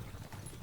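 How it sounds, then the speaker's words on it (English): A horse's hooves clip-clop at a steady walking rhythm in the video game Kingdom Come: Deliverance 2. The sound is quiet and very brief, with no voices over it. "I'm not actually controlling the horse. It's going on its own."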